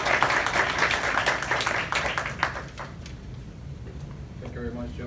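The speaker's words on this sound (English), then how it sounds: "Let's give a round of applause for Dr. Morea." An audience at a health talk breaks into a round of applause, crisp clapping that stays strong for a few seconds and then tapers away, followed by faint room sounds and a voice starting.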